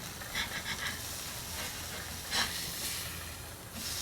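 A flipped smash burger patty sizzles on a grill, a steady hissing fry with occasional louder spatters and scrapes, close and unbroken.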